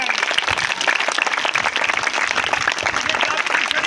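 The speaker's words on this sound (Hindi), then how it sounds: "तालियां जोर से बजाएंगे।" Sustained applause from a magic show audience, steady dense clapping that fills the whole stretch at even loudness with no pauses.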